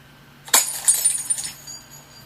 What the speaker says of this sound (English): The tiny pressure of my thumb to break the glass will end everything.